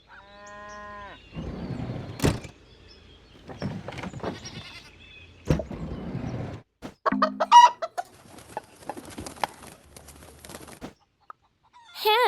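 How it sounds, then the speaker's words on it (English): Several farmyard calls in a kids' animal video game follow one another, including hen clucking, with a low moo-like call among them, all fairly close and without any talking. "Hen."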